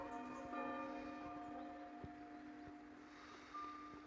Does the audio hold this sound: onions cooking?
no